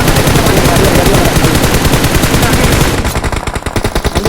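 Rapid, loud automatic gunfire in the battle royale game BGMI, a continuous burst of closely spaced shots that thins into separate cracks near the end.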